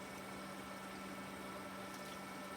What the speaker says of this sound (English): So we're going to basically inundate what we have in the pan with this water